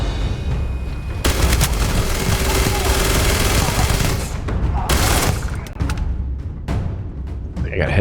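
Rapid bursts of automatic gunfire and booming shots from the Starfield game, loud and dense, coming in sustained volleys then trailing into scattered single cracks.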